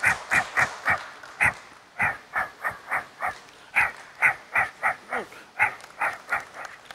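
A performer on a comedy stage show imitates a dog barking from far away. About twenty short, evenly spaced barks come in a steady rhythm, moderately faint, with no talk.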